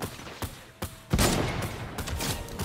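Sniper rifle shots in a Fortnite battle royale match: a few sharp cracks early, then one heavy loud blast with a long rumbling tail, close and punchy with no voices.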